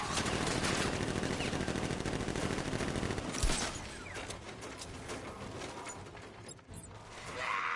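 Sustained automatic gunfire from militia fighters in a Batman video game, dense rapid bursts and loud shots filling the scene throughout, with a heavy blast near the middle and continuous mechanical clatter.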